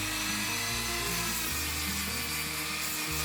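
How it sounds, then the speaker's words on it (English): Rotary tool on a flex shaft with a rough sanding attachment grinding a leather strip, a loud continuous high-pitched whir whose motor pitch shifts slightly as it works. "rotary tool with a flex shaft and rough sanding attachment"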